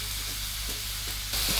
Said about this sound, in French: on va faire revenir les champignons à feu vif pendant 2-3 minutes